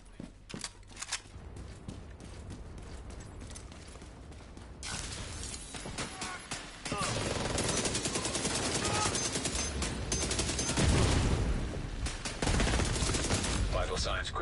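An enemy gunner in the video game Warlords of New York fires a machine gun in rapid, sustained bursts that grow denser and louder, overlapping with other gunfire.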